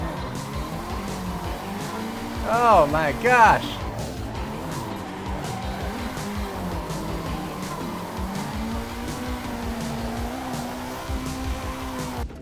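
A race car engine in a sim racing game holds a steady, loud drone with brief tire squeals early on. A person speaks over the engine noise for a moment.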